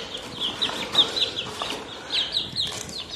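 Chickens kept in a small home coop cluck repeatedly in short, bright bursts, several birds close by with a few faint rustles between calls.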